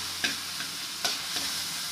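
Ingredients for Filipino pesang tilapia being sautéed in a pan, with a steady oil sizzle and three distinct scraping stirs of the spatula spread across two seconds.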